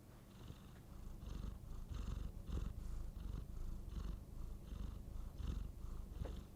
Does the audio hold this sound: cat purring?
yes